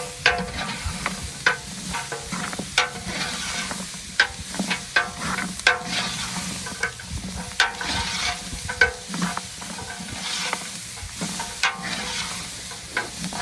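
Garlic and vegetables sweat down in meat juices in a pan for a pumpkin spice stew, a soft continuous sizzle punctuated by frequent scraping stirs of a spoon, close up and without talk.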